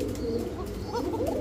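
A domestic pigeon coos softly and close by, a short low warbling call over a background hum.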